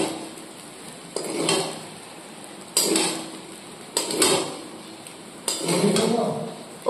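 Rice stirred in a pan with cashews and raisins, spoon scraping against the metal in four separate bursts, each a quick clatter that trails into a soft rustle, close up with no talk.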